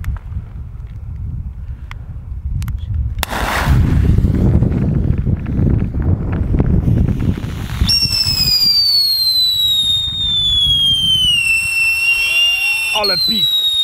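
A ground firework (fountain and mine) fails to lift off, banging and crackling near the ground, then a piercing whistle rises and slowly falls for several seconds, loud and close.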